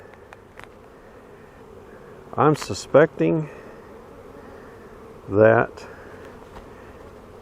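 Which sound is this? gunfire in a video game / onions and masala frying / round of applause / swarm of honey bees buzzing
swarm of honey bees buzzing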